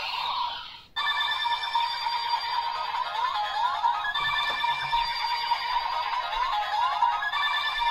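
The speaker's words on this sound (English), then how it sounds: "Interesting phone dial sound." A synthetic toy-phone dial tone from a Kamen Rider Gotchard DX Gotchalibur toy, bright and beeping with rising sweeps, rings steadily for several seconds after a short soft lead-in.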